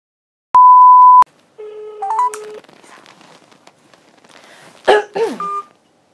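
A phone call hang-up beep: a single steady tone, then a short sequence of electronic beeps and shifting tones, with coughing or throat-clearing noises in between.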